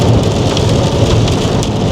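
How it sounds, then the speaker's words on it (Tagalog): Heavy rain pounds a car while driving on a highway, a dense, loud, unbroken roar of drops drumming on the roof and windshield, with no talking. "Na grabe talaga yung ulan."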